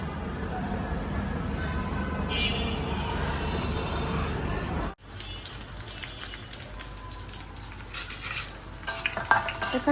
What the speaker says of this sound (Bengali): কাঁচামরিচ পেঁয়াজটাকে একটু ভাজা ভাজা করে দিচ্ছি